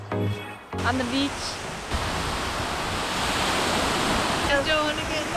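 Broadband surf rolling onto a beach in Tuscany, a steady wash of waves that swells in after a brief moment of voices near the start and continues unbroken, with faint chatter returning toward the end.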